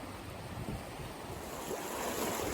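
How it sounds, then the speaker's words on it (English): Fast-moving river water rushes around a person wading across a swollen, deep river, a steady broadband wash of turbulent flow with some wind buffeting, moderately loud and continuous, with no voices. "This water's moving quick and it's a lot deeper than it looks."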